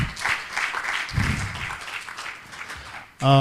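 Applause at a content supplier forum, a moderate spread of clapping from the audience over several seconds, ending abruptly as a loud sustained tonal sound cuts in.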